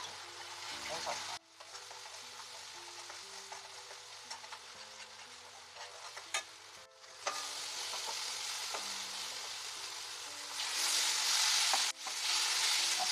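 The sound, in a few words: masala paste with coconut, cashew, sesame, ginger frying in pan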